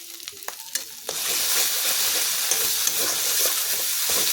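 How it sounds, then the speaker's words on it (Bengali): Egg curry masala with salt is sautéed in a pan. A few soft clinks come first, then a loud, steady sizzle with scraping from stirring. "এটাকে একটু কষিয়ে নেব"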